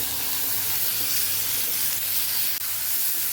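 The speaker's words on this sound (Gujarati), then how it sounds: "અહીંયા આપણે હવે ટીંડોરાનો મરચાંનો વઘાર કરી દેવાનો છે।" Tindora and green chili tempering sizzles steadily in hot oil with turmeric and asafoetida, a close, continuous frying hiss that holds loud and even throughout, with a brief dip near the end.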